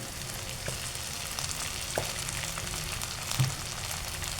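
Ingredients tempering in a hot pan for a salmon devilled dish give a steady, close sizzle and crackle that runs throughout, with a few brief stirring knocks and no talking.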